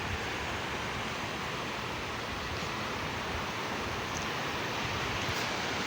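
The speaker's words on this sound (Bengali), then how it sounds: "সমুদ্র" Sea surf on a red crab beach washes in as a continuous, even broadband roar, steady throughout with no distinct breaks between waves.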